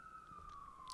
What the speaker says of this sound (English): I think that was a ambulance there, Tim.